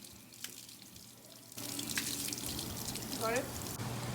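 Tap water runs steadily over Brussels sprouts as they are washed in a kitchen sink, a quiet start giving way to a louder, continuous splashing stream that lasts to the end.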